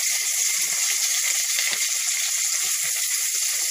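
Chopped onion and bay leaves frying in a pan for a chicken kofta curry, a steady close hiss of sizzling with a few soft scrapes of stirring.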